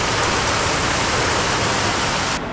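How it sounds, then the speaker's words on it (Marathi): Heavy rain outside, a loud dense wash of steady hiss that cuts off abruptly at the end, no talking. "पाऊस बघा किती"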